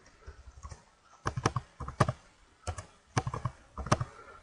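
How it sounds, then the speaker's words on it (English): Close typing on a computer keyboard, entering a short word in several quick bursts of sharp key clicks separated by brief pauses, with no talk. "fill in by typing in the word true"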